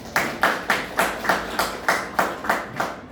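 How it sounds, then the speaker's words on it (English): Students in a biology class clapping together in a steady rhythm, about ten sharp, evenly spaced unison claps, close and fairly loud with no speech. "Can we clap?"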